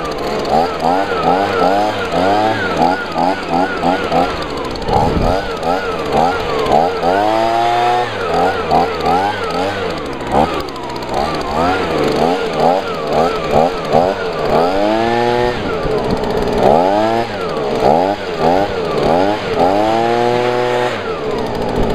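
A Stihl BG55 gas leaf blower runs steadily and loud close by, a continuous two-stroke drone with shifting pitch as the throttle rises and falls, heard alone throughout.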